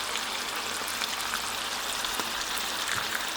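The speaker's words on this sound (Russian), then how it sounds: "Сейчас жарятся сердечки." Chicken hearts fry in a pan with a steady, even hiss and faint crackle throughout, moderately close and uninterrupted, with no talking.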